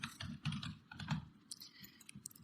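Rapid typing on a computer keyboard while entering a password in Windows, a steady run of close, crisp key clicks over about two and a half seconds with no talk.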